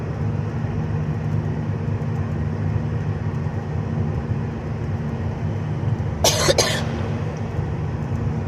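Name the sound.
coughing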